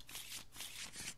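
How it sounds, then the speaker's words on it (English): Arkham Horror LCG cards are shuffled into a deck in a quiet, close riffle of papery rustles that comes in three quick pulses. "we can shuffle Zeal into our deck"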